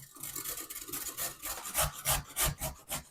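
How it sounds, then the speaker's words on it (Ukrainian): Carrot is rubbed against the coarse side of a hand grater, a close, steady rasping scrape in repeated strokes that grow louder and more rhythmic toward the end, with no talking. "На велику терку буду натирати моркву."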